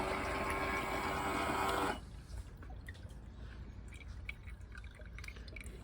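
Water draining from a bathroom sink in a small camper, a loud steady rushing flow for about two seconds that cuts off abruptly, leaving faint trickles and drips in a quiet room.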